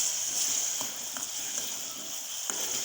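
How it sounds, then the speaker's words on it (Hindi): Raisins frying in a pan for chicken kabuli pulao, a steady soft sizzle with faint crackles, close and continuous, with no talking. "ये देखिए कि किशमिश जो हैं वो फ्राई हो चुके हैं।"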